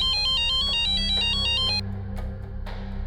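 A phone ringtone plays during an outgoing call, a repeating electronic melody that stops partway through, followed by faint clicks and low room noise.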